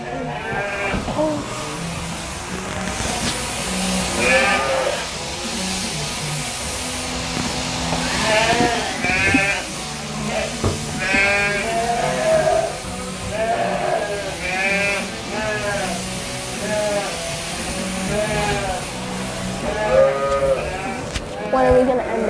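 Sheep bleat again and again, loud and close, during a live shearing session, with people talking steadily beneath the animal calls throughout.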